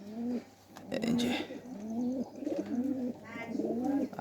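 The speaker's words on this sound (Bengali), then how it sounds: "এই যে টেডি এবং গিরিবাজের সমন্বয়ে বাচ্চা কবুতর" Young pigeon, a Teddy and Giribaz cross, coos in a series of soft, rhythmic calls, close and fairly quiet, with no talk over it.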